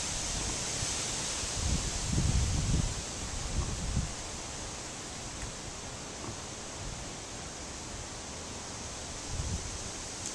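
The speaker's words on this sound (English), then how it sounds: "I can't really measure how fast the wind is right here" Wind blows steadily through trees on a windy day in Eagle River, Alaska, a broad rushing roar with a few louder low gusts buffeting the microphone.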